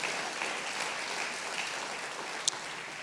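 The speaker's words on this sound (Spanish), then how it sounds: "Dele un aplauso al Señor." A church congregation applauds during a Sunday service. The clapping is a faint, diffuse and steady patter lasting a few seconds, with no one speaking.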